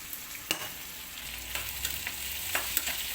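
Shredded cabbage frying in oil for a palya, a continuous bright sizzle broken by a few sharp crackles and spatula scrapes, close and alone without voices.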